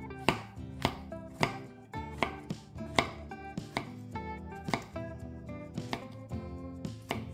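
Onions being chopped with a knife on a cutting board in a home kitchen, a steady run of sharp, close knife strikes at a brisk, slightly uneven rhythm with no talking.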